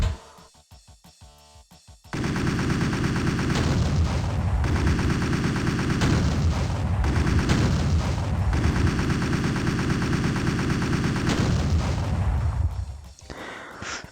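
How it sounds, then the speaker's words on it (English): Rocket launcher, plasma gun and chaingun fire in the classic shooter game Doom, a dense continuous roar of rapid shots and explosions lasting about ten seconds, loud and unbroken, after a brief quieter stretch of clicks. "I gave them the rocket plasma chain gun combo."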